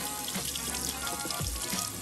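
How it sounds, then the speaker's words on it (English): A cold tap runs steadily into a sink as cured homemade bacon is rinsed under it, a loud, close, continuous splashing hiss throughout. "under fresh cold water, remove the cure because you're ready for cooking"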